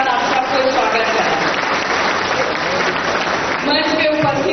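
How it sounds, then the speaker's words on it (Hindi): Audience applause at an annual community association conference welcoming the chief minister, a dense, continuous wash of clapping at full loudness throughout. "एक बार जोरदार ताली के साथ आप सबको स्वागत है।"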